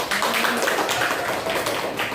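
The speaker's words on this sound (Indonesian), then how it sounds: "Berarti tepuk tangan buat kelompok karet dijamin awet." Classroom applause for a student group, a dense patter of many hands clapping together at steady volume through the whole moment, close and lively in an indoor room.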